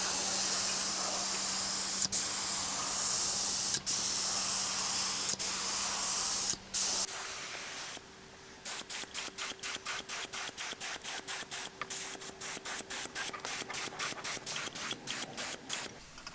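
Primer and top coat are sprayed onto parts of a seventy-year-old World War 2 era scythe, first one long continuous close hiss, then a run of short rapid spray bursts with brief gaps.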